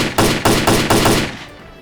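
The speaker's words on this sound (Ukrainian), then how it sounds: "Я тобі зараз покажу, як треба стріляти." Gunfire in S.T.A.L.K.E.R.: Clear Sky, at the Garbage location: four loud, close shots in a quick, evenly spaced burst, followed by a fading echo tail.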